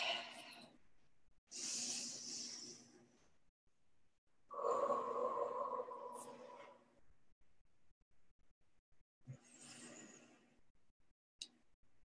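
Several slow, deep breaths taken close to the microphone, each a long airy rush with silent pauses between, followed by a short throat-clearing sound near the end, all with no talking.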